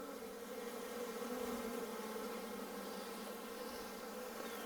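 A steady, dense hum of many bees buzzing close by, continuous and even throughout with no voices.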